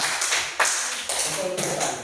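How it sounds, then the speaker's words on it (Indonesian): A classroom gives a short burst of applause for group B, with several quick clusters of claps over about two seconds, close and fairly loud. "tepuk tangan untuk kelompok B"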